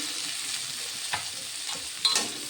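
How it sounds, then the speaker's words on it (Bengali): Chopped onions fry in mustard oil in a wok with a steady, loud hiss, broken by a couple of faint stirring scrapes and no voices. "পেঁয়াজগুলোকে একটু ভেজে নেব, একটু লাল লাল করে ভেজে নেব"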